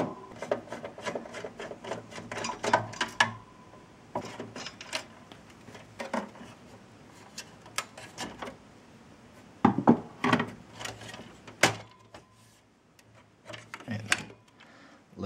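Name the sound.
loosening Dell Optiplex heatsink screws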